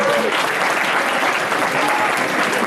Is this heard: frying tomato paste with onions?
no